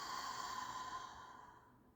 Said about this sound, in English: Breathing in through the nose. All the air out through a fogging mouth.